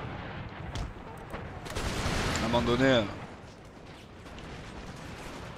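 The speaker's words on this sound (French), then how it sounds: "Le canon" Cannon fire in Empire: Total War, a loud blast with a rumbling, crackling tail and a descending whistle, set amid battlefield noise while someone speaks French over it.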